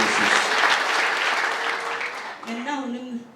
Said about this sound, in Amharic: ከፍ ባለ ጭብጨባ